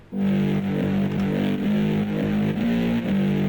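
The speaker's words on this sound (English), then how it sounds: "Alright, now let's do some reverb." A loud, sustained synth tone with shifting harmonics plays on its own in a G-house drop made in Ableton, smeared and washed out by a roomy reverb tail.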